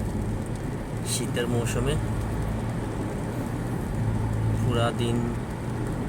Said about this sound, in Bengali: আজকে প্রায় এক বছর পরে বৃষ্টি দেখলাম